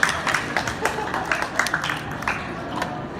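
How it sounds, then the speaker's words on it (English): Audience applause at a Stranger Things fan panel, a crowd of people clapping with scattered sharper claps standing out, fairly close and steady before thinning out. "let's give a round of applause once again"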